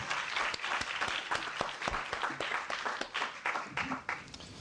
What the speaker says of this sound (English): I want to just give you all a round of applause.